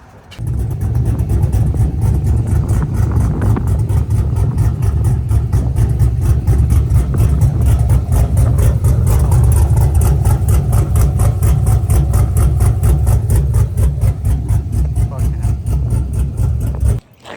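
A cammed 6.0 V8 Chevrolet Silverado engine idles steadily with a deep, loud, lumpy, loping rumble, running continuously close to the microphone before cutting off at the end.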